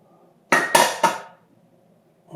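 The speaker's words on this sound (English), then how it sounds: "first I'm going to mix my dry ingredients in a separate bowl" Dry cornmeal and flour for jalapeno cornbread are stirred in a separate bowl, giving three quick, bright clinks of utensil against the bowl in a tight cluster, then quiet, with one more knock at the end.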